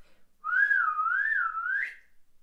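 A single melodic whistle imitating a ship captain's signal on a sailing ship, wavering up and down in pitch for about a second and a half, close and clear with no talk over it.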